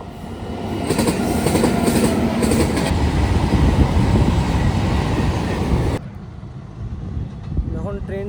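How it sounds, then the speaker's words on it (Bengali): A train rumbles through a station platform with steady rolling wheels and clattering wagons, loud and close for about six seconds, then the roar drops away abruptly. A person speaks over and after the noise. "আবার একটা ট্রেন আসছে এদিক দিয়ে"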